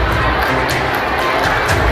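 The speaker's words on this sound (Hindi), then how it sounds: "तो एक बार जोरदार तालियां आपको" An audience at a Hindu New Year Phooldei cultural program bursts into loud, dense applause, with steady clapping filling the whole two seconds.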